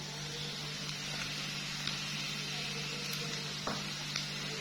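Onion and small pieces of boiled potato fry quietly in a pan over a medium-low flame, a soft, steady sizzle with faint scraping stir sounds and occasional light clicks.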